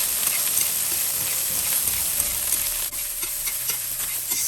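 Minced garlic, shallot and broccoli stir-frying in oil in a pan, a loud, continuous close sizzle with light scraping as the food is stirred.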